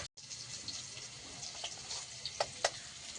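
A bay leaf is rinsed under running tap water, a soft continuous splashing hiss with a few small drips and clinks, quiet and close, with no talking.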